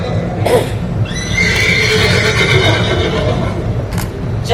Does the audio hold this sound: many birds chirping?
no